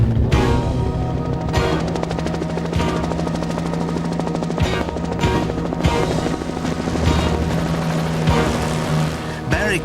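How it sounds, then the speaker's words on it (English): A helicopter in flight gives a steady, loud rotor drone with rhythmic blade thumps that runs the whole time, layered under other busy sound. "All he could do was drop the helicopter and hope."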